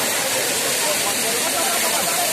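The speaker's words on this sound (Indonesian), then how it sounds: "sekarang udah nyampe nih air terjunnya nih. Air terjun Ciismun" Ciismun waterfall at Cibodas in the Puncak area, a steady broadband roar of falling water filling the scene at close range, with a voice faintly present beneath it.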